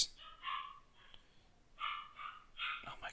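A dog barks and yips in three short bursts, moderately loud against a quiet indoor room, with no talk over it.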